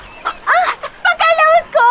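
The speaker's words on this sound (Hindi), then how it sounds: "अरे सुलेमान की मुर्गी क्या देख ली" A hen clucks in a scene from a South Indian action film dubbed into Hindi: a quick series of loud, close, nasal clucks and squawks in short bursts.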